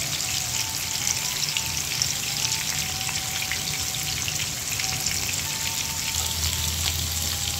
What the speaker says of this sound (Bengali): আমার এক পাশ ভাজা হয়ে গিয়েছে।